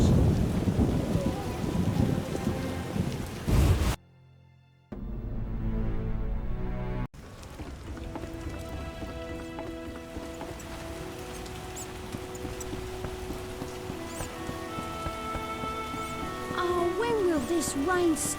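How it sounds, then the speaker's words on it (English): Steady rain hisses throughout with rumbling low thunder in the video game The Witcher, a brief drop-out midway, and a voice speaks over the storm near the start. "It rains and it pours."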